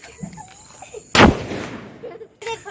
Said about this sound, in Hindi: पेड़ पे लगा रहा है बम,